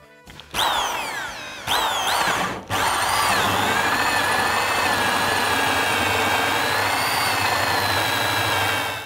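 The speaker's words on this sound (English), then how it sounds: "Now we need to drill a hole to fit our pot plants." A power drill with a hole saw whines loudly, stopping and restarting twice, then grinds steadily through wood with a high, wavering pitch for several seconds.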